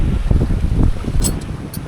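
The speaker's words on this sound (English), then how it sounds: "It's really got quite windy now." Loud wind rushes and rumbles steadily aboard a sailboat crossing toward Türkiye, close and constant, with a few faint high clinks near the end.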